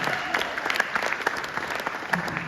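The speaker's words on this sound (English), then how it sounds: "so let's give her a round of applause." Audience at a gala breaks into sustained applause, a dense wash of many hands clapping at fairly close range that holds steady throughout without pause.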